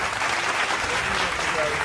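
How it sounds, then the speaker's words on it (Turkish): Audience applause on a quiz show fills the room with dense, steady clapping from a studio crowd, loud and sustained throughout with no break. "Alkışlar bu tarafa."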